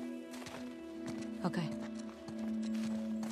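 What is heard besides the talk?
horse hooves clip-clopping in The Last of Us Part II video game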